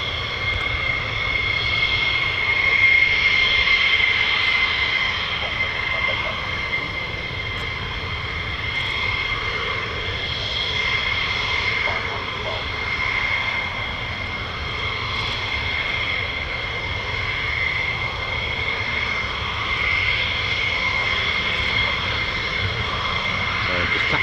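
A military fighter jet taxiing to the end of the runway at RAF Lakenheath gives a steady, moderately loud engine drone with a high whine held throughout, with faint voices beneath.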